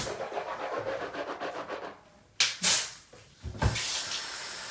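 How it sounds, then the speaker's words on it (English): Water runs steadily from a bathroom tap during tooth brushing, then breaks into a few short splashing bursts as a handful of water is caught and used. "you're gonna open the tap and you gotta put a handful of water"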